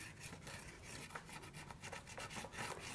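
A pastel stick is rubbed across the textured surface of a faux fossil panel, making soft, close, repeated scratchy strokes at low volume with no voices.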